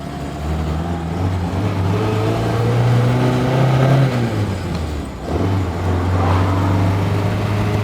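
A vintage Mercedes-Benz 190SL engine pulls away, heard loud and close from inside the cramped cabin, holding a steady drone that climbs, dips briefly as the revs change, then settles again.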